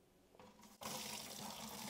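Whey being poured off settled cheese curds while making black pepper Parmesan cheese, a quiet start that breaks into a steady, splashing liquid pour.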